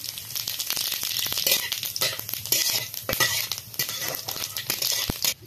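Cumin seeds sizzling and crackling in hot oil for a desi-style chicken curry, loud dense spitting with a stirring clink or two, close and continuous without talk.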